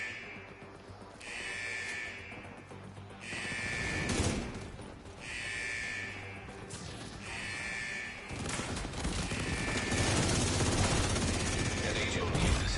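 Repeated gunfire in The Division 2 under a loud, dense battle mix with recurring electronic tones, the shots blending into steady combat noise that swells toward the end.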